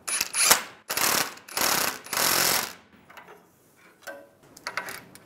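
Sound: ratchet snugging up a tie rod nut

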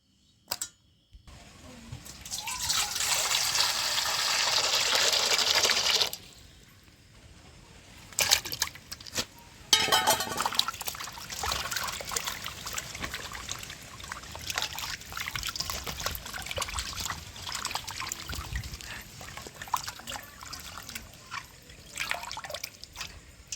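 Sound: washing pomfret fish in running water

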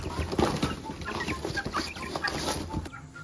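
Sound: chickens clucking in a room

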